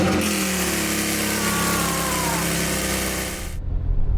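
A close Audi S4 engine running loud and raw through an open straight-through exhaust, a sustained throaty drone that rises slightly before abruptly dropping away.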